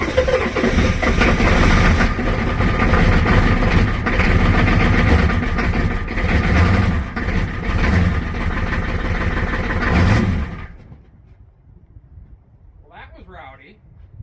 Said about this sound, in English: Dodge turning over